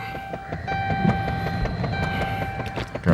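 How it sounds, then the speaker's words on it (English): Starter whirs steadily as a Dodge Charger engine cranks without catching, close and continuous, a high whine and rattling clicks running through it. "Let's try to get this thing back cranked up."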